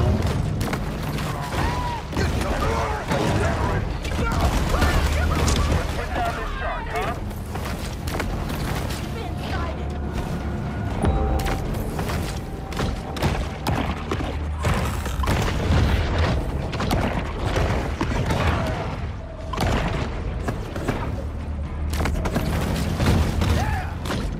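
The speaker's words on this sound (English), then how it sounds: "a dangerous army of lawless, trigger-happy sadists begin shooting anything that moves" Gunfire from a trigger-happy army in the Maneater video game, with a dense, constant barrage of booming shots and mechanical clatter running for the whole stretch, and voices mixed into the din.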